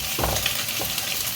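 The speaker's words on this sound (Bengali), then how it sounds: "এই ডিমের একটু ঝুরি করে নিচ্ছি, এর ওপরেই সবজিগুলো দিয়ে ভাজাভাজি করে" Mixed vegetables fry over crumbled scrambled egg in a hot pan, giving a steady close sizzle with a few stirring scrapes and no voices.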